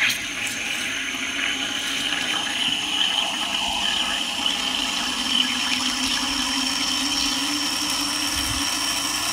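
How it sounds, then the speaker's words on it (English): Water rushes steadily through a laboratory aspirator pump that is pulling a vacuum, a continuous, fairly loud hissing flow without breaks, and no one speaks. "we get a lot of water flowing through the aspirator pump"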